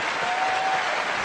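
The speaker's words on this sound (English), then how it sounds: "that deserves an applause" Applause from a live audience, a dense steady burst of clapping heard alone and close for about a second.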